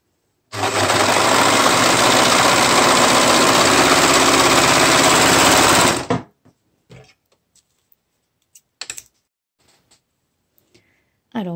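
Lidl overlock serger stitching fabric, a loud steady high-speed mechanical whir running for several seconds, then stopping abruptly, followed by sparse clicks and small handling noises.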